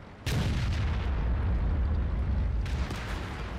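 Artillery in a World of Tanks battle lands with a sudden loud boom, followed by a rumbling tail and a second, fainter blast near the end, with no talk over it.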